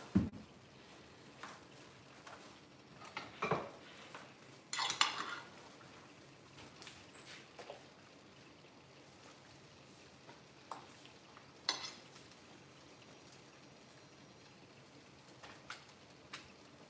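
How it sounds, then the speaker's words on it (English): Pork chops being stirred in a pot, with scattered utensil clinks and scrapes against the metal and a few sharper knocks, then quieter shuffling sounds amid faint background noise. "Let me first of all stir the pot. Let me stir the pork chop."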